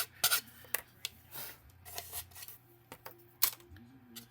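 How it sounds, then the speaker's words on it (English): A nail file rasps against polymer clay in short, quiet strokes, a dozen or so irregular scrapes separated by pauses, close up and faint. "I just find the nail file is so much easier to use"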